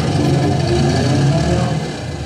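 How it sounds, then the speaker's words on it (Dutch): Motor of a theme park ride car at Bobbejaanland running steadily, a loud, close, even engine drone with a low hum and no change in pitch, heard alone without talk. "En start maar de motor."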